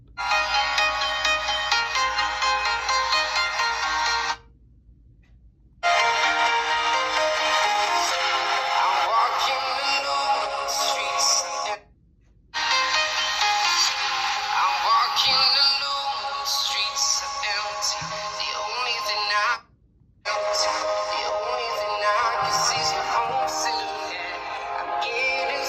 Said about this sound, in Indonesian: di sini aku mau compare speaker Tecno Spark 20C dengan HP lain